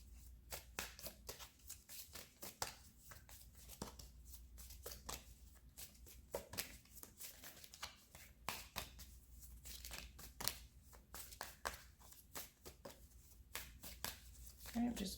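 Tarot cards being shuffled and drawn by hand during a love reading, a steady run of quick, crisp riffling flicks and papery slaps that continue close and fairly soft for the whole stretch.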